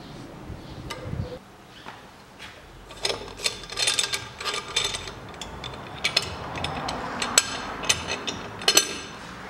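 Valve keepers go into the cylinder head of a 2003 Toyota Caldina engine in a run of small, sharp metallic clicks and ticks. They come irregularly and up close, over quiet handling noise, with no talk.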